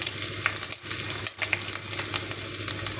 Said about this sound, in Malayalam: അപ്പോൾ ഇഞ്ചി ഇട്ട് കൊടുത്തിട്ട് നമുക്കൊന്ന് മെല്ലെ പോലെ തന്നെ ഇളക്കി കൊടുക്കാം.